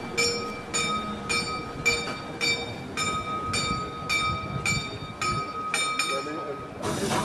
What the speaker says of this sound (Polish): Wjeżdżamy na dworzec w Oss.